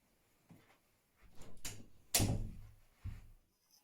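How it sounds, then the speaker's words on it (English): A room door is pushed closed indoors, giving a few soft scrapes and a firmer thud as it shuts, quiet and isolated with pauses between the sounds. "And going the other way, we could push the door of a room closed."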